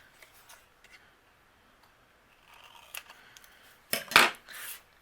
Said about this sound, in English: With our vellum, I am going to fishtail the end,